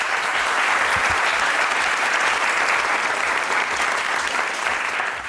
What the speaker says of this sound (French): Tonnerre applaudissements, le public.